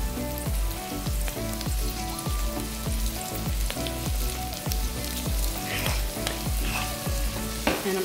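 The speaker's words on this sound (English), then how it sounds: "I've been frying the beans and the onions for about 5 minutes" Steady sizzling of beans and onions frying in a pan, a continuous crackle with occasional scraping stirs, close and fairly loud throughout.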